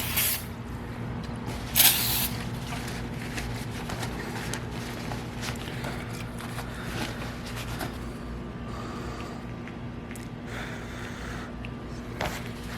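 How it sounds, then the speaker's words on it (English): Carburetor cleaner sprays from an aerosol can onto a bicycle's hydraulic brake line fitting to clear spilled oil, a loud hissing burst near the start, then softer, steady spraying and faint hiss under a low background hum, with no voices. "Same carburetor cleaner to get rid of all the unwanted oil here or anywhere you spill it."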